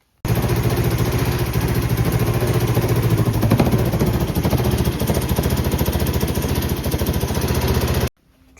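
A Honda Elite CH-series scooter engine with a swapped motor starts and runs with a loud, raspy exhaust from a leaking manifold. The steady, harsh running noise holds for about eight seconds, with a brief word spoken early.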